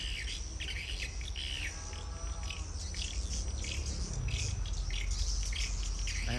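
Swiftlet calls play through a speaker at a bird house to lure the birds, a continuous dense stream of chirps, trills and twitters with steady insect-like buzzing underneath and no talking.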